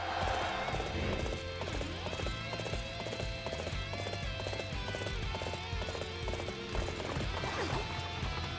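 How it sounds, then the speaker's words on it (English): Galloping horse hooves in the Dynasty Warriors 8 XL video game, a steady rapid clip-clop rhythm running throughout over a loud game music and effects bed, with no speech. "Call my horse."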